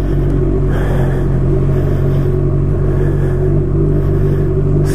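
A motorcycle engine runs steadily up close on a muddy track, a constant droning hum with slight rises in revs throughout.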